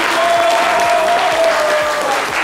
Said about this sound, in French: Merci de l'applaudir également, s'il vous plaît.